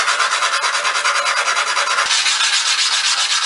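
Dice rubbed by hand on oiled grit paper, a close, bright scratchy rasp in quick, even back-and-forth strokes with a steady rhythm and no voices.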